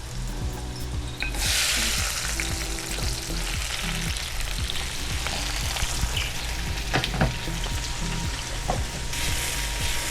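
Eggplant, peppers and other ratatouille vegetables sizzle steadily in oil in a pan, with scraping and clattering as a utensil stirs and turns them throughout.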